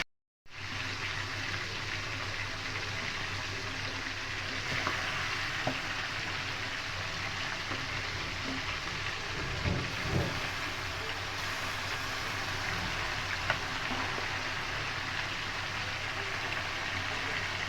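Marinated meat frying in hot oil for biryani, a steady loud hiss and crackle that runs unbroken throughout with a few louder pops, with no talking.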